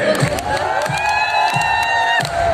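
A lively crowd cheers and whoops loudly and continuously, with a few dull thumps underneath.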